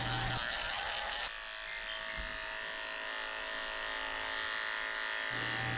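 Electric clippers fitted with a 10 blade shave a Shih Tzu's face, a steady close buzz that runs without a break. Its pitch and strength shift slightly partway through as the clipper moves.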